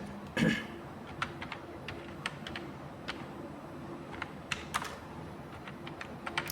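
Computer keyboard in a computer class during Tally ERP 9 accounting data entry, sparse individual keystrokes and repeated presses clicking at an uneven pace over faint room noise, one louder knock near the start.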